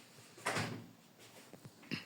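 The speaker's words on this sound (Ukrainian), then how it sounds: "Я ламаюсь у двері." Door-breaking in the Roblox game 99 Nights in the Forest: a loud thud or crash, then a few softer knocks and bumps at close range.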